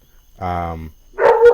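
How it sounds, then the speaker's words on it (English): A dog barks close by, one sustained harmonic bark-like yelp followed after a pause by two sharper, noisier barks, loud and alone with no talk over them. "No, that's my dog."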